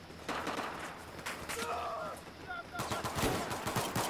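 Distant pistol shots from an M1911 in the shooter game Battlefield 4, several quick cracks in a gun-game match with pistols only, faint and mixed with background battle noise and a few short voice sounds.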